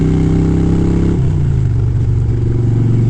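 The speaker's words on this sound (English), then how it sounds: "I fell in love with the sound of these pipes as soon as I took the bike out for a test ride" Harley-Davidson motorcycle fitted with Vance & Hines Short Shots exhaust, running loud and close with a deep, throbbing rumble that drops from a faster lope to a lower, steady idle partway through.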